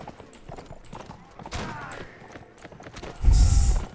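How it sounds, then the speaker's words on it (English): Cavalry horses galloping in the video game Mount and Blade Warband, a steady clatter of hooves that swells into a loud, close rumble near the end. "Charge! Cavalry charge!"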